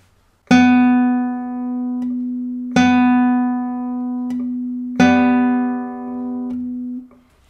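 Three plucked classical guitar notes, each ringing out and decaying, struck at a steady pace with gaps between, showing flying versus standing strokes; close and clear with no talking.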